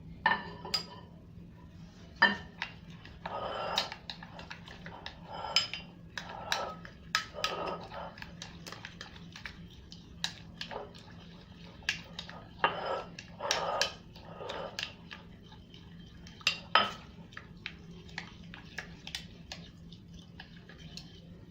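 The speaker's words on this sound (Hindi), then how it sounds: "और बड़ी इलायची कुटी, ये सब शामिल करके इसे हम अच्छी तरह मिक्स कर लेंगे।" Spoon scraping and tapping against a bowl while spices and crushed black cardamom are mixed for Lebanese shawarma, a series of irregular clinks and scrapes at moderate distance over a low steady hum.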